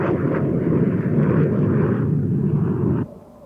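A Grumman F-14 jet fighter in a maneuvering training flight roars past with a loud, broad, rumbling engine noise that holds steady for about three seconds, then drops sharply away.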